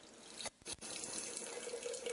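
A quart of water poured from a tap onto soaked almonds for almond milk, a steady running-water hiss with two brief interruptions near the start before the flow continues evenly, quiet and with no talking.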